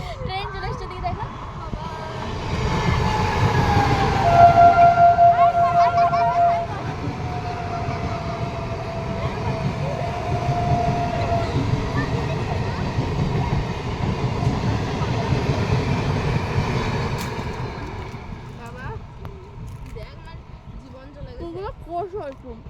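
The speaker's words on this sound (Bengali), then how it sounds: "ওই যে ট্রেন চলে এসছে, দিকে দেখো" A train passes nearby outdoors with a long rumbling roll and a drawn-out horn tone that swells and fades, and people talk over it.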